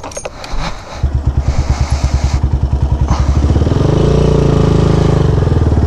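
A motorcycle is ridden indoors past a guard during a long 17-hour ride, its engine loud and close, chugging in quick rhythmic pulses before settling into a steady, heavy drone.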